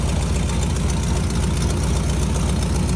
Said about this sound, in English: She's idling on her own.